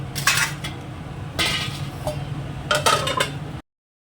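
A metal lid is set onto a cooking pot in a home kitchen, giving several distinct clinks and scrapes of metal on metal, close and moderately loud, over a low background hum.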